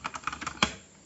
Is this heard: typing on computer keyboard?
yes